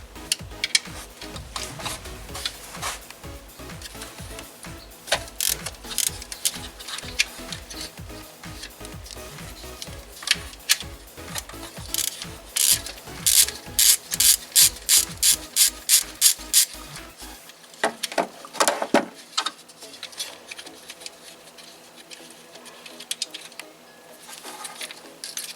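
Ratchet wrench loosening a 12mm nut on the timing cover of a Kia 1.8 engine, with rapid close clicking bursts in uneven runs, then a brief pause and a few final clicks.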